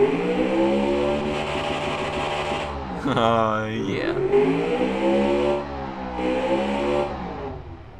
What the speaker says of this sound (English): I like to hear V8s go very fast,